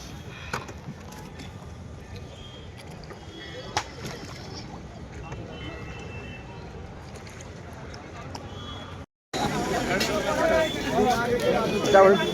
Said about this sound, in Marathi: फायनल आपण बोटीत बसलो आहे.